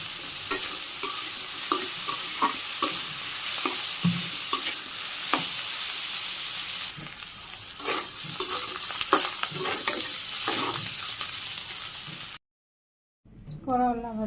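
Green chillies and chopped onion frying in a pan in a Bangladeshi village kitchen, a steady hiss with a string of sharp stirring scrapes and clicks, then a short silence before a voice returns at the end.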